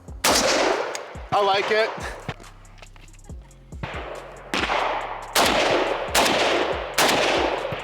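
Krebs Custom M23 AK prototype rifle fired in a series of loud, sharp shots, several spaced single reports with ringing decay, a voice speaking briefly between them.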